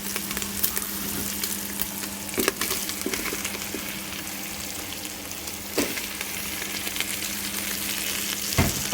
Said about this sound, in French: nous avons mis nos lardons dans le multicuiseur. En position saisir, sauter.